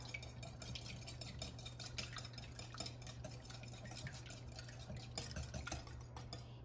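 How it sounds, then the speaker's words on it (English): A whisk beats eggs in a bowl with a rapid, steady ticking and clattering rhythm, close and soft, running continuously over a low background hum without any voices. "I'm going to mix them with a whisk."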